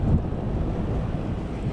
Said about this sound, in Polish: No wiaterek jeszcze jest.